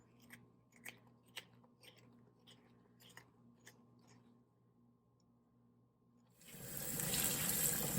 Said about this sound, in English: just rinse them under running water, inside and out